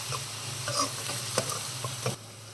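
Garlic frying in oil for an onion pickle, a steady close sizzle with scraping stirs from a utensil in the pan, short and continuous.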